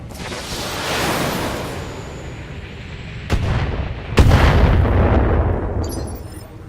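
Weapons fire in the Battletech video game: continuous rumbling barrage with two sharp heavy blasts, the second swelling into a sustained loud roar.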